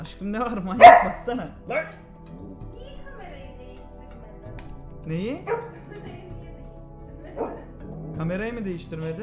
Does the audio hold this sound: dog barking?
yes